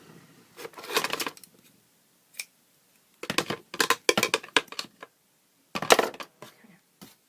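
Scissors snip through a knot in knitting yarn, heard as several short, sharp clusters of crisp cutting and handling noise separated by quiet gaps, close by with no talking.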